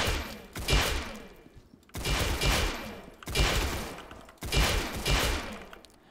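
Gunfire in a Roblox shooting game, heard as four loud, dense bursts of rapid automatic fire, each lasting over a second and separated by short gaps, close and harsh with no talking.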